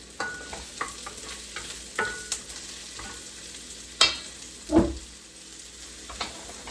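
Onion and chicken frying in a pan for Filipino adobo, with a soft steady sizzle under scattered stirring scrapes and a couple of louder utensil knocks, no talking.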